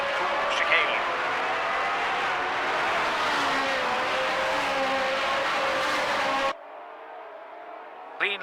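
1978 Formula One race cars at the Monaco Grand Prix blare past in a sustained, loud engine roar for about six seconds, then the sound drops abruptly to a quieter hum.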